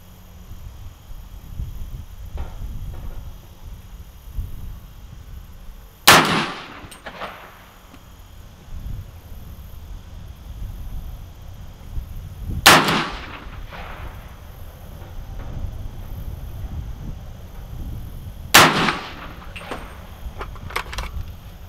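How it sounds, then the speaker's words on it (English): Three sharp rifle shots from a Stag Arms 300 Blackout fitted with an Aim Sports Wraith MLOK handguard, spaced several seconds apart, each a loud crack with a short echoing tail over a low outdoor rumble. "Do another 3-shot group, aim for the middle again."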